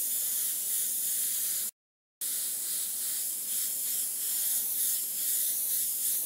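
An airbrush spraying paint onto a Monster Energy logo design: a steady close hiss of air and paint, broken once by a brief pause before resuming.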